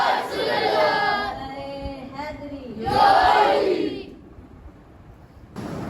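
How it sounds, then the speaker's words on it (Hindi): A crowd at a devotional gathering answering the Takbir chant, many voices shouting Allahu Akbar together in two loud, sustained swells, with a reverberant hall sound between them. "उनके आने से कबल ज़ोरदार नारे का जवाब दीजिए। नारे तकबीर"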